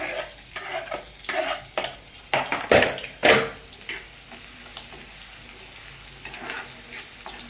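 Chopped onion dropped into a pan where garlic has fried to a reddish colour for masala pasta, with a soft sizzle, a few sharp clatters and scraping stirs, no talk.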